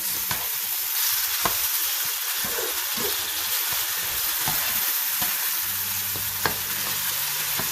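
Chopped tomatoes fry and sizzle steadily in a hot pot on the stove, a dense continuous crackle with occasional sharp pops and spits, close and alone with no voices.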